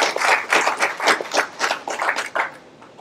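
Loud applause from an audience at a Tamil Congress speech, dense rhythmic hand clapping for about three seconds that tapers slightly at the end.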